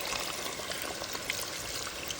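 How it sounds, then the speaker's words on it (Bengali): More water is poured into a pan of cooking chicken, giving a continuous, fairly soft pouring and trickling hiss that runs steadily throughout with no voices. "আরেকটু পানি দিয়ে দিলাম"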